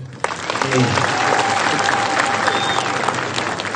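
An audience applauds Mutula Kilonzo Junior and the Wiper team after a big election win in Makueni, a loud, sustained burst of clapping that begins sharply and holds steady, with some voices mixed in.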